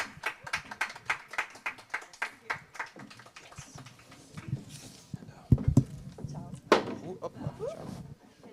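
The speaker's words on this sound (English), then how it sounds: "A big round of applause, please." Audience applause at the AfroCannes 2025 Caribbean cinema panel as guests are welcomed onstage, starting as sharp rhythmic claps that spread into a scattered round, mixed with room noise and a few voices.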